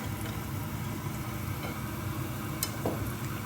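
Garlic frying in coconut oil in a pan gives a steady, even sizzle throughout, with faint ticks and light scrapes over the constant hiss.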